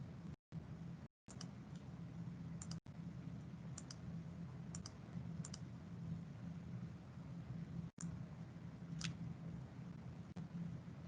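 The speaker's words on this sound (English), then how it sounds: "clicking with the left mouse, drawing the area out that we want to measure." A computer mouse's left button clicks in a sparse, irregular series of light, faint taps, some in quick pairs, over a steady low background hum.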